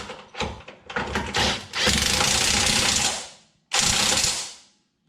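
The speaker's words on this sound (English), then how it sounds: "Put the 19mm wrench on the top to hold it." A 19mm wrench tightens a control arm bolt on a 2004 Toyota Corolla: close, loud bursts of mechanical ratcheting, then two long sustained grinding stretches with a brief pause between them. No one speaks.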